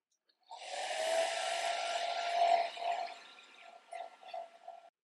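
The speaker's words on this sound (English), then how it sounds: "Sometimes I just grab my hair dryer and try to dry this quickly" A steady whooshing hair dryer runs for several seconds drying watercolor paint, then tapers into softer, intermittent bursts of airflow.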